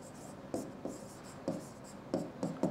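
Pen scratching on paper during a hand-worked finance calculation, with faint, brief stroke bursts at uneven intervals against a quiet background.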